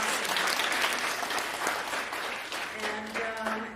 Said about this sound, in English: I want to give an applaud for them.